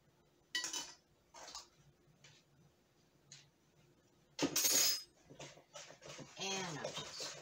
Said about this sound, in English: I'm just stirring that in really, really good.